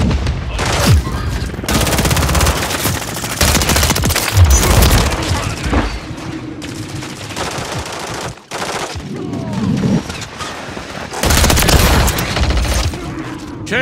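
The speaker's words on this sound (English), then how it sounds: "Taking effective fire." Call of Duty: Modern Warfare 3 multiplayer firefight with loud, dense automatic gunfire in long bursts, mixed with heavier booms and brief pauses between volleys.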